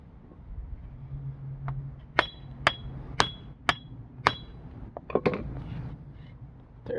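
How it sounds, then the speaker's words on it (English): Hammer tapping a U-joint into the front axle of a 2000 Jeep TJ, six or seven sharp metallic strikes spaced about half a second apart at close range over a low background murmur. "I'm going to tap this in a little bit further"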